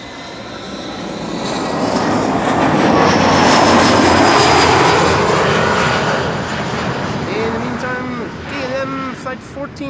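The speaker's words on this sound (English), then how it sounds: "Embraer 175. Coming in." Embraer 175 airliner landing at Amsterdam Schiphol, a steady jet roar that builds and swells loud before easing off, with voices talking over the end.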